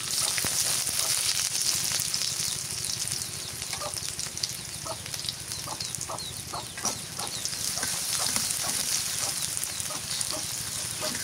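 Onions dropped into hot oil with cumin seeds in a frying pan, sizzling steadily and fairly close with continuous crackle and scattered pops for the whole stretch, no voices.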